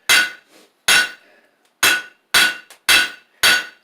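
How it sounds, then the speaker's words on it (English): A square hammer planishing a forged steel teardrop punch on an anvil: six sharp, ringing metallic strikes spaced roughly half a second apart, close and loud with quiet gaps between. "So we're just kind of working like a flatter with this square hammer. And just planishing out all our marks."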